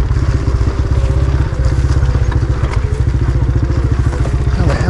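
A motorbike riding over an abandoned miner's road, its engine a close, loud, rapid pulsing putter under clatter and thumps from the rough track.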